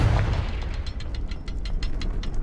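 A blasting Confringo spell from Hogwarts Legacy explodes with a deep boom at the start, followed by a string of sharp crackling pops fading through the rest of the moment.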